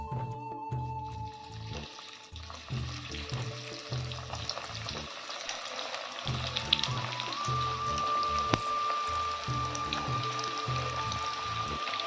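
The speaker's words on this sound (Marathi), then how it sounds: "याप्रमाणे सर्व वड्या आपण तळून घेऊया" Cabbage vadas deep-fry in hot oil, a close, bubbling crackle that comes in bursts and dips, with a faint steady tone running underneath.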